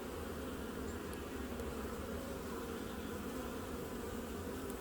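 Honey bees buzz continuously and densely around an open hive during an inspection, a close, even drone with no pauses.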